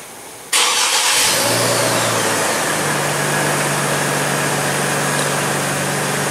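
A vehicle engine being checked for a gross EVAP leak cranks and starts after a moment of quiet, then settles into a steady, close idle with a constant low hum.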